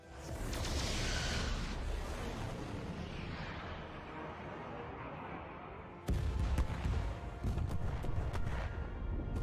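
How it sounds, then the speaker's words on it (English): Sci-fi starship weapon blast in a Star Trek game, a loud sustained rumbling explosion that rolls on for several seconds, followed by a second sharp burst of crackling blasts near the end. "Look at that explosion."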